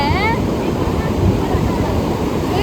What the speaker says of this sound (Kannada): ವೇವ್ಸ್ ಮಾತ್ರ ಹೆಂಗ್ ಬರ್ತಿದೆ ಅಂದ್ರೆ